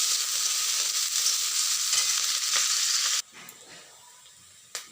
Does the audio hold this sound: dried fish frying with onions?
yes